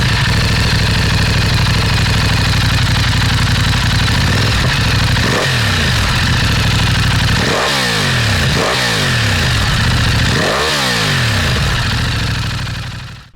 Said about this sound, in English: fire it up and hear what she sounds like again with that Termignoni exhaust